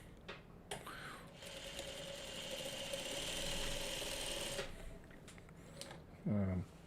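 A sewing machine stitches quilt block pieces in one steady, whirring run lasting several seconds, with faint handling noises before it and a brief vocal sound after it stops.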